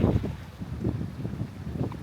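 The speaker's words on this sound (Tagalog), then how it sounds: "mahangin, super lamig" Gusty, very cold wind buffets the microphone in low rumbling bursts that rise and fall irregularly, with no one speaking, in Ollantaytambo, Peru.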